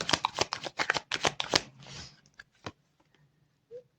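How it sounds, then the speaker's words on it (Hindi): Tarot cards are shuffled in a rapid burst of crisp, close riffling flicks, then a few softer taps as a card is drawn during a reading, with no talking. "okay so now I will pull the final card of present situation"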